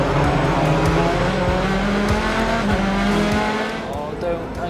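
Racing cars in a championship showdown touring-car race with BMWs in the field blast away from the starting grid, a dense, loud roar of many engines revving and shifting together, continuous throughout with a slight easing near the end.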